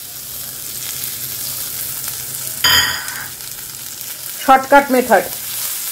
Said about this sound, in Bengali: এর ওপরেই আমি পেঁয়াজগুলো দিয়ে দিচ্ছি